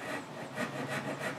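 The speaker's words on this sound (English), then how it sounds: "Get the groove started with the smaller crosscut teeth." Hand saw with crosscut teeth starting a dovetail groove in wood, quick rhythmic rasping strokes, about four back-and-forth cuts, close and fairly quiet.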